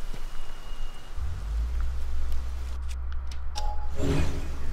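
Rain pours steadily in the video game Tears of the Kingdom, a dense, close hiss of falling water with a low rumble that swells midway and a brief swish near the end.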